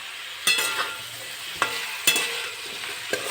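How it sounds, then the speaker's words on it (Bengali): Vegetables with radish and green chillies sautéing in a pan, a steady soft sizzle broken by a few sharp clinks of a spatula scraping the pan, close and alone with no voices. "একটু কষিয়ে নেব তারপরে মশলা দেবো"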